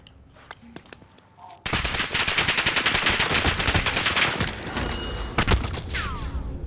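Long burst of rapid automatic gunfire in a shooter video game, loud and sustained for several seconds with dense rattling shots, a few quieter shots before it starts.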